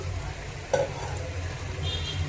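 Tamarind leaves stirred and fried in a pan for a raw mango curry, giving a steady low sizzle with one brief scrape of the spatula partway through.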